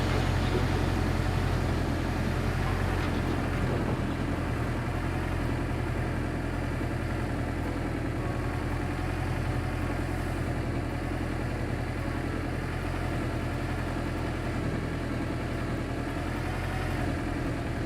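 An engine idles steadily in Gold Mining Simulator, a low, continuous rumble that holds at even loudness throughout with no talk.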